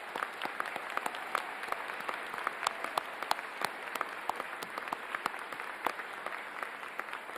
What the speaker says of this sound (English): please join me in extending a big round of applause to our